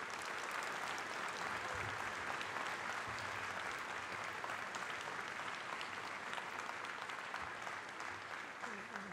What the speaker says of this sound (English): I'd like to suggest that the graduates might like to give a round of applause to those who helped to